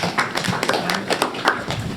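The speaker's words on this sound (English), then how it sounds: "You got a golf clap, Kylie." Soft, polite golf clap at a school district board of education meeting: a handful of scattered, light hand claps in an irregular patter, moderately close, with no talk over them.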